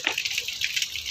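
Water gushes steadily from a stone spout at the twenty-two spouts of 22 Dhara in Kathmandu, a close, continuous splashing and patter with no voices.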